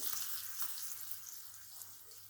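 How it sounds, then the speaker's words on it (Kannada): Curry leaves hit hot oil while making chole for chole batura, giving a steady close sizzle and crackle with no one talking. "ಅದೇ ರೀತಿ ಕರಿಬೇವು ಹಾಕ್ತಾ ಇದ್ದೇನೆ"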